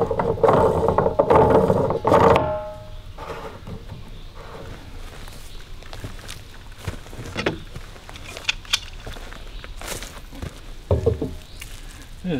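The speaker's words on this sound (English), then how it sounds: "This is a big ass wrench." Large wrench ratcheting on plumbing for an off-grid gravity-fed water system, a series of irregular clicks and metallic clacks close by, with louder mechanical clatter at the start and occasional rustling between.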